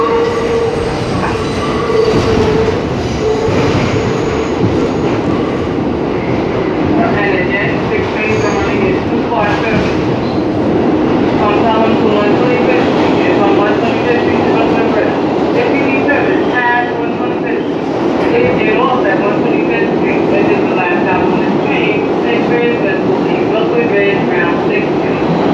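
A New York City subway 6 express train runs steadily throughout, a continuous loud rumble of wheels and carriage with rhythmic rail clicks and occasional squeals, heard from inside the car.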